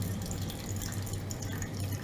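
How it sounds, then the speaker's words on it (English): Water dripping through a wetted paper coffee filter into a glass decanter, a steady trickle with close drips in an otherwise quiet kitchen setting, no talking. "I don't know if you guys can hear the sound of the dripping water into the decanter."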